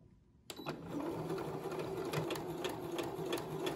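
Sewing machine stitching a fabric mask starts after a short quiet moment, then runs in a steady, close, rhythmic whir to the end.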